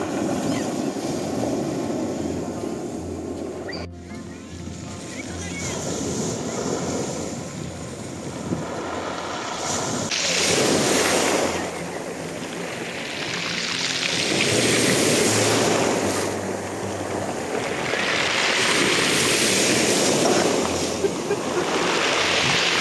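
Sea waves break and wash along a beach on the Imeretinskaya embankment with strong wind buffeting the microphone, a loud, continuous roar that swells and recedes in long surges.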